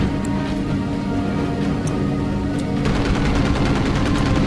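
Continuous rapid machine-gun fire roars loud and steady in the Battlestations: Pacific video game during an airplane-versus-naval-base battle, with a dense rattling fusillade over a constant low rumble.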